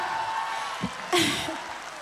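Crowd at a 2019 live concert applauding, a continuous wash of clapping with a brief louder burst of whooping partway through.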